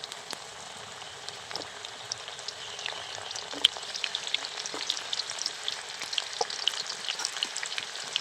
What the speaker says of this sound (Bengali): গাজর আর পেঁপেটাও আমি খুব ভালো করে ভেজে নেব।